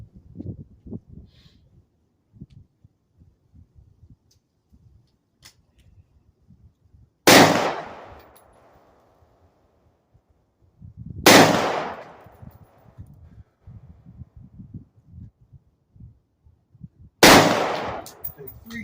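Three loud gunshots fired outdoors while testing 45-degree iron sights, spaced several seconds apart, each with a sharp crack and trailing echo over quiet background rustling.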